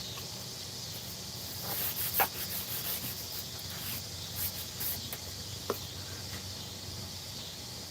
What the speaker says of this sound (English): Can y'all hear all the cicadas making noise?